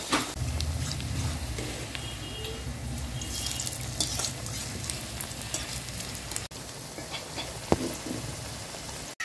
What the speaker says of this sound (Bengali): এক এক করে সম্পূর্ণ পেঁয়াজি এভাবে আমি ভেজে নেব